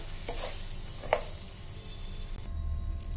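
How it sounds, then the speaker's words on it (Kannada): Washed rice is dry-roasted in a pan and stirred steadily, giving a continuous close scraping rustle with a light sizzling hiss. There is one sharper scrape midway, and the sound thins out near the end. There is no talking. "ಇದನ್ನು ಸ್ವಲ್ಪ ಕಲರ್ ಬರುವಂಗೆ ಹುರಿತೀನಿ."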